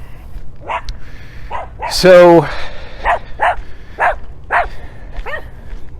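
A dog gives one sharp, close bark, followed by a few shorter yips and whimpers, while a person talks quietly in between.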